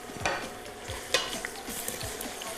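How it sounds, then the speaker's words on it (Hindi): Onions frying in a pot for khade masale ka korma, giving a soft continuous sizzle. A spoon scrapes and stirs through it with a few brief clinks. "और प्याज को हम ब्राउन होने तक फ्राई कर लेंगे।"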